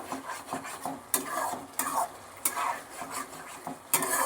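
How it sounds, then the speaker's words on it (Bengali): Potatoes are stirred and sautéed in spice masala in a pan, with soft scraping and clacking strokes of a spoon against the metal and a faint sizzle underneath, fairly quiet and close. "মশলাটা খানিকক্ষণ কষিয়ে নিয়ে এবার আলুগুলো দিয়ে কষাচ্ছি"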